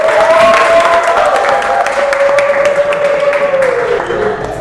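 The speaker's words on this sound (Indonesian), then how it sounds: "Berikan aplaus untuk kelompok 1" A classroom audience claps for a student group, a steady burst of dense applause that carries on for several seconds with a voice speaking faintly over it.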